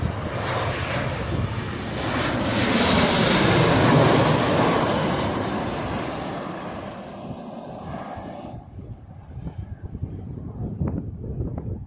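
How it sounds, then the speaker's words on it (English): A Jet2 Boeing 737 airliner passes overhead, its broad jet roar swelling as it comes close and then slowly fading into distant rumble with no talk. "That was a Jet 2 737."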